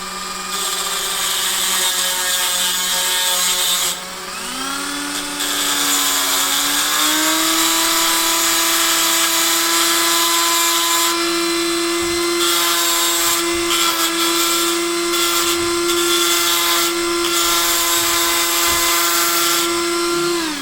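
Dremel rotary tool re-rounding a custom key pin, giving a loud, steady high-pitched whine that runs throughout and shifts pitch slightly as the bit loads against the pin.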